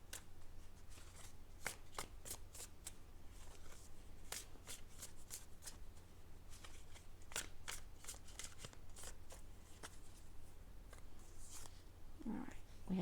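Tarot cards are shuffled and pulled in a long run of crisp, close snaps and riffles at an uneven, quick rhythm over soft room hiss, with a faint voice near the end.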